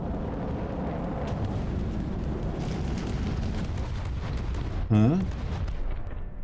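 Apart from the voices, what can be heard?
incendiary cluster missiles exploding in From the Depths video game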